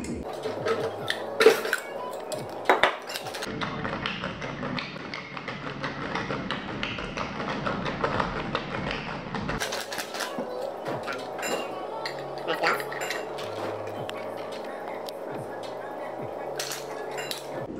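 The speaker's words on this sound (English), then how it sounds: "Nice ice to shake." Ice rattling inside a cocktail shaker with lime juice and olive brine, a rapid continuous churning clatter that runs for many seconds, close and steady, with a few clinks and knocks before it starts.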